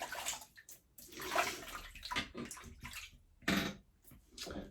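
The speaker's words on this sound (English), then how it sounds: "We will lather that up on the face." A synthetic Yaqi 26mm shaving brush works lather across the face with wet, swishing, squelching strokes in irregular bursts, close and fairly quiet, with no talk.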